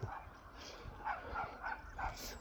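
A small dog lets out a run of short, sharp yapping barks at a moderate distance, about four to five barks in quick succession over a low background hum.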